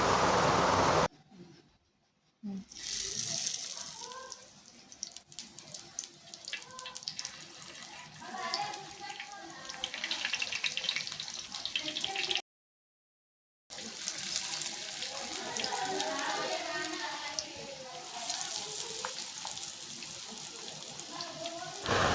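Vadas made of black-eyed peas and chickpeas fry in hot oil, giving a steady bubbling crackle and hiss, close and moderately loud, broken by two short silent gaps.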